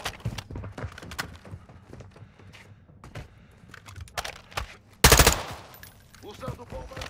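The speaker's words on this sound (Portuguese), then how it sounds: "Tô recarregando!" Rapid, sharp weapon fire and clicking reload action in the shooter Modern Warfare II, a dense burst of close shots with a loud blast near the end; brief talk is mixed in.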